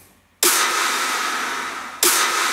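Two layered snare drum samples fire together, one heavy in the low mid-range and one bright on top, landing as two loud hits with long noisy, washy tails, the first after a brief quiet lead-in.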